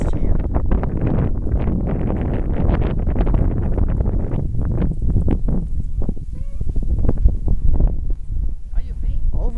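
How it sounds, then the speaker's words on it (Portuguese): Strong wind buffets the microphone in loud, ragged gusts with constant rumble and rustling, as a man in a windstorm watches someone fly a small kite; his voice cuts in over the roar. "Ó, ó o barulho do vento."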